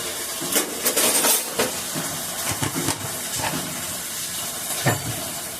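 Ridge gourd and soybean bharta fries in a pan with a steady hissing sizzle, broken by repeated scraping and stirring knocks from a spoon throughout.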